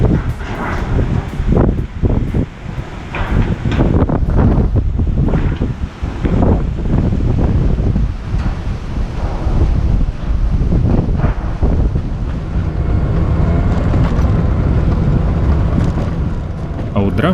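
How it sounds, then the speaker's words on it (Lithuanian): Strong wind roaring and buffeting against the microphone during a storm near the Black Sea on a scooter journey, loud and continuous throughout with gusty surges and a low rumbling bed. "audra mūsų nesustabdė"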